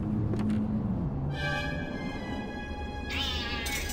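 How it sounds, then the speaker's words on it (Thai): A cat meows in the 2003 adventure game The Black Mirror, a few drawn-out, clear calls rising and falling at close range against a steady ambient hum. "แมวนอนอยู่"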